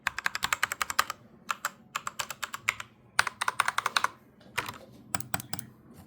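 Rapid bursts of keyboard typing in uneven runs with short pauses, close and clear, no voices.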